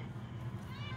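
Female cat meowing indoors, a single drawn-out, fairly quiet cry heard close up with no other sounds.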